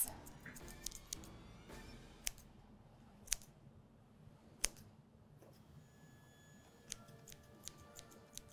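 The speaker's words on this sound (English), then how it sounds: "I'm going to grab my scissors and go ahead and trim those longer pieces" Scissors snip tassel yarn loops on small Halloween ghost earrings, giving faint, scattered sharp clicks close by over a quiet background.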